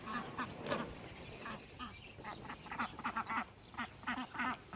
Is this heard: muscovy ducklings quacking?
yes